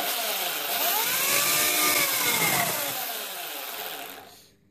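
A repaired electric chainsaw running alone, its motor whining up in pitch and then winding down to silence over a few seconds, loud and close.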